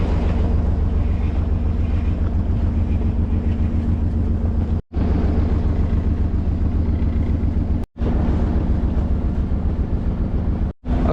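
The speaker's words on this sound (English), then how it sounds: "about time to get the engine on and go on over" A sailboat's engine runs steadily while motoring across water in the San Juan Islands, a continuous low droning rumble with wind buffeting the microphone, interrupted by a few abrupt cuts.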